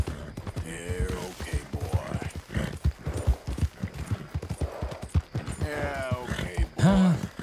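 Horse hooves clip-clop in a quick, uneven rhythm in Red Dead Redemption 2, close and clear, ending with a short whinny near the finish.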